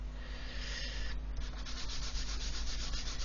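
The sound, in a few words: sanding a plastic Airfix model cockpit part held on blue tack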